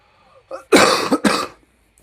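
Two harsh, loud coughs in quick succession, close to the microphone, after a short throat sound, then quiet.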